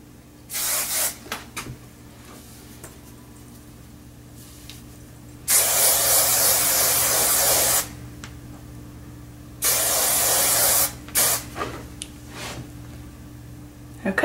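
Hairspray hisses onto freshly curled hair in two long bursts of about two seconds each, close and loud, with short clicks and brief handling sounds between them.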